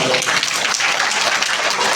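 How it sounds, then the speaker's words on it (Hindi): A hall full of schoolchildren at an annual school function claps for themselves, a loud, dense burst of many small hands filling the room with no talk over it. "अपने लिए ताली बजाओ भाई"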